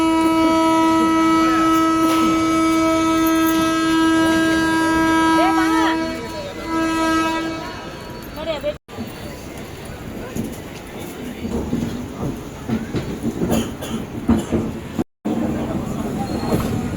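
The Chozhan Express, train 22675, departs Chennai Egmore station, sounding a long, loud multi-tone horn for several seconds before rumbling and clattering wheels take over, with people talking nearby.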